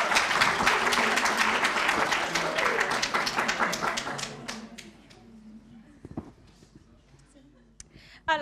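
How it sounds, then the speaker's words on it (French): Audience applause in an amphitheatre for a student team, a burst of dense clapping that thins to scattered claps after about four seconds, followed by quieter room noise and a voice near the end. "un tonnerre d'applaudissements"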